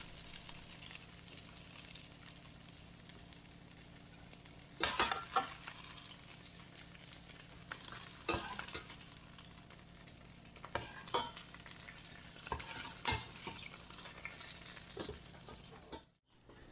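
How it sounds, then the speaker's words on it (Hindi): Sliced okra fries and sizzles in a pan with a constant, soft crackle, broken by a few sharper scrapes and clicks as it is stirred, close and without any voice. "इसी तरह से खूबसूरत सी भिंडी ये फ्राई हो रही है"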